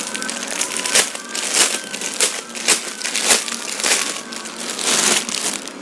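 Plastic packaging around a Mickey Mouse children's t-shirt crinkles and crackles up close, in a run of sharp, irregular bursts and rustles lasting several seconds, with no speech.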